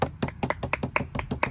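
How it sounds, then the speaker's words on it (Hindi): Several hands clap in a quick, uneven rhythm, sharp and close, for about a second and a half from a small group cheering for themselves during a vlog in Oman, with no talking over it. "तालियां बजाओ अपने लिए।"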